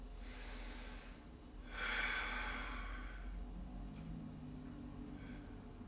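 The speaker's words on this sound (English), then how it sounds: "Breathe in here, 3 more breaths." Slow, audible breaths during a yoga flow, including one strong nasal exhale, heard close against a low steady background hum with no talking.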